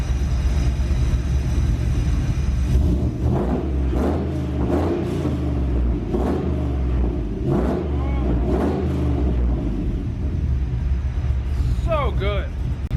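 A GMC truck fitted with a true dual X-pipe exhaust revs several times, each swell of engine rumble rising over a steady idle, with people talking nearby.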